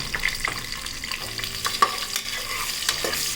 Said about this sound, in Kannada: ಈರುಳ್ಳಿ ಹಾಕೊಂಡ್ಮೇಲೆ ಒಂದು ಸಲ ಈ ಥರ ಫ್ರೈ ಮಾಡ್ಕೊಳ್ಳೋಣ